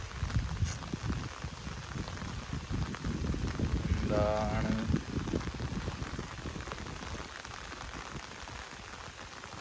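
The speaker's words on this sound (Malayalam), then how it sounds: "നല്ല മഴ." Heavy rain falls during cast net fishing in a Kerala village in the monsoon, with a steady dense patter on water and surfaces throughout and a brief spoken voice partway through.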